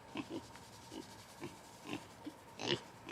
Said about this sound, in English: And then we've gotten 2 more girl pigs.